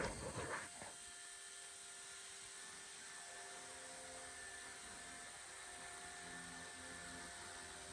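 Blade Revolution 90 micro RC helicopter flying indoors: a steady, high-pitched electric whine of small rotors and motor, fairly close and continuous, with a brief louder burst at the start as it throttles up.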